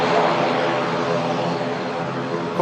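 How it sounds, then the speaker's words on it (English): An Aer Lingus propeller airliner taxis fast, its engines giving a steady, loud droning roar close by with no break. "Having a bit of a fast taxi, this aircraft as well"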